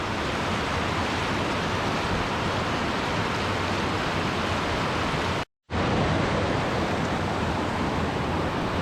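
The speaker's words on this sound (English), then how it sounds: "the water drops from like my head height right down, boom" A waterfall on a river in Scotland, seen beside an old bridge, roars as a steady broadband rush of falling water. It stays loud and constant, broken only by a momentary cutout partway through.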